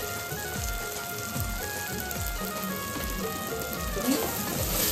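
Mutton with mutton masala, hing and homemade red masala frying in oil, a continuous soft sizzle with faint scraping stirs, a thin steady tone running over it and no clear talk.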